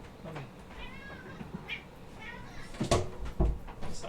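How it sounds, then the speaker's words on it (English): A house cat meowing to be let in, a few short mewing calls scattered across a quiet room, followed by some door or cupboard knocks near the end. "my cat wanted to come in"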